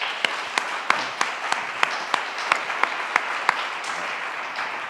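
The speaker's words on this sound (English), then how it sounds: "So please give another round of applause to them" Conference audience applauds panelists in a voting rights session: a broad wash of clapping from a crowd, with a few sharper, evenly spaced nearby claps standing out above it, holding steady throughout.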